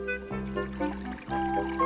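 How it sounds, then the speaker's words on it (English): Water pours into a bathtub in an animated children's story about a mouse, a steady running trickle over sustained tonal background sound. "The water filled up the bathtub."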